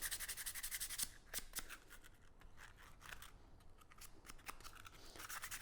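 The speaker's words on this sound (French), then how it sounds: "Un petit coup de papier de verre." Quick back-and-forth strokes of sandpaper rubbing on a wooden planter piece, close and crisp, in bursts of rapid scratchy swipes with short pauses between them.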